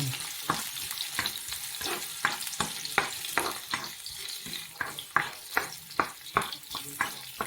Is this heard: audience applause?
no